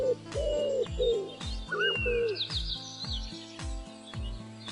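Pigeons coo in a repeated low rhythmic pattern while smaller birds chirp and whistle higher up, all clear and close.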